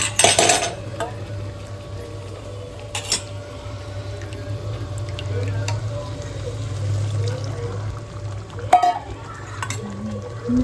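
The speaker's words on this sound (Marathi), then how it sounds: "छानपैकी मिक्स करून घ्या." Masala being mixed into hot water in a pot, with a few sharp metallic spoon clinks against the vessel over a steady low hum and soft stirring; no one speaks.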